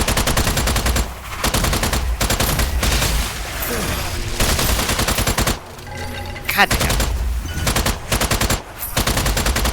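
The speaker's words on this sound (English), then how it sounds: "So much shooting." Rapid machine gun fire rattles almost without pause in the video game Strange Brigade, with dense loud bursts broken by short gaps, while a player briefly curses over the shooting.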